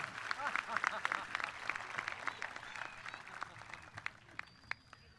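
A graduation ceremony audience at Santa Monica College claps in a steady, dense wash of applause heard from a distance at fairly low level, fading slightly toward the end, with a few brief voices mixed in.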